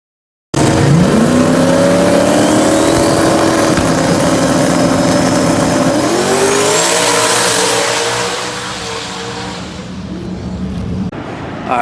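A drag racing street car launches on its first pass with its wheels spinning, the engine roaring loud and close as it revs up and climbs through gears with tire squeal, then fades as it pulls away.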